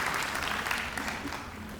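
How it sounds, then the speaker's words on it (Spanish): A conference audience at a tropical medicine talk claps steadily in a dense, even wash of applause, welcoming a doctor to the podium, with no voices over it. "Lo recibimos con un aplauso, por favor"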